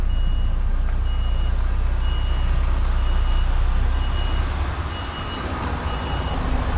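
A truck's reversing alarm beeps in an even, repeating rhythm as it backs slowly along a tight street lined with parked cars, loud and close over a heavy continuous diesel engine rumble.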